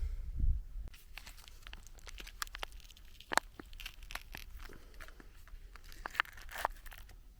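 A Russian FSB Border Service ration pouch of pasta with beef is torn open: crinkly plastic rips and rustling crunches in scattered bursts, up close, with no talking.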